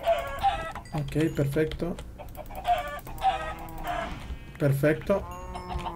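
Minecraft chickens cluck in short bursts from the video game while someone talks in Spanish over them, the clucks clear and fairly loud between his phrases.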